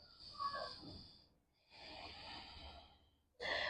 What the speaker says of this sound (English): Nice long breaths here.